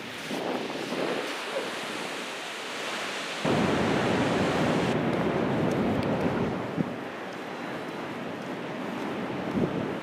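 Steady broadband roar of ocean surf at the beach in Seaside Heights, mixed with gusty wind buffeting the microphone, continuous and fairly loud without clear breaks between waves.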